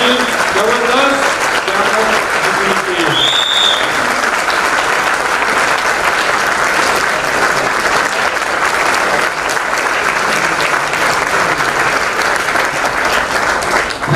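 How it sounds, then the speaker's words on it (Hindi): Loud, sustained applause from an audience at an insurance agents' training session, continuous clapping that fills the room for well over ten seconds, with a few scattered voices and whoops near the start. "तालियों का आवाज"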